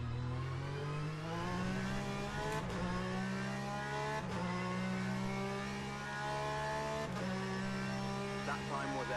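GT race car engine in a sim racing game, a loud continuous high-revving drone with rising pitch sweeps and several sharp gear-shift breaks, present throughout.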